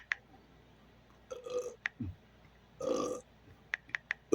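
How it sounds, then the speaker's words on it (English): A few short burps come from a person, low and brief, amid quiet room noise and sharp clicking sounds, with a soft murmured word. "Spiritual burps, negative energy burps coming out of me."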